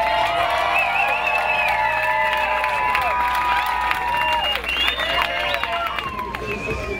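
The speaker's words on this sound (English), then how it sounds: "a big round of applause to all the competitors" Crowd at a telemark skiing festival at Alpine Meadows cheering, whistling and applauding competitors, with loud, sustained whoops and shouts over steady clapping and crowd babble throughout.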